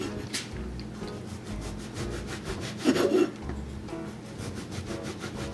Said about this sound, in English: we're just going to simply cut thin slices of our baguette